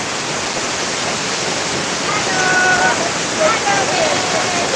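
Rushing water pours steadily at a riverside bathing spot, a loud, even broadband roar filling the whole stretch, with faint voices and a whistle-like tone briefly audible beneath it.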